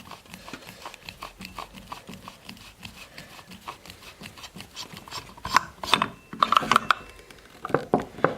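A dust bung is being unscrewed from the cylinder of a Weihrauch HW100 air rifle, producing close, gritty metallic rasps and small clicks that build into busier scraping toward the end.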